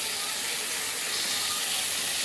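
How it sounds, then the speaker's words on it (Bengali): Moong dal sizzling hard in a hot pan with spices, a steady loud hissing spatter that stays even and close for the whole stretch, with no voices. "এবার এই ডালটাকে আমি এর সঙ্গে ভেজে নেব।"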